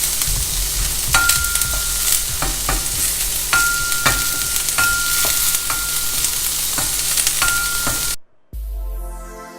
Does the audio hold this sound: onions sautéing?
yes